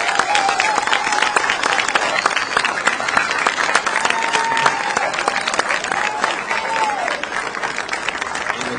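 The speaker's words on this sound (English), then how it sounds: "Can we get a hand for both these candidates, please?" Audience applauding debate candidates, a sustained dense wave of clapping filling the room, loud and steady from start to finish with faint voices mixed in.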